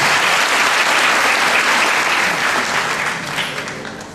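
Enthusiastic applause from an audience at a Manisa ceremony honoring jury members, a dense, loud, continuous clapping that fades slightly toward the end.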